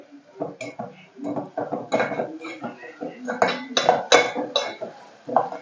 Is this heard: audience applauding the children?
no